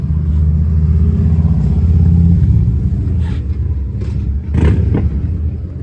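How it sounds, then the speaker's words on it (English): A 1951 Chevrolet five-window pickup with a straight six-cylinder engine and three-speed manual transmission runs with a steady, close, low rumble, easing off slightly midway, with a few faint knocks near the end. "Straight 6-cylinder engine, 3-speed manual transmission."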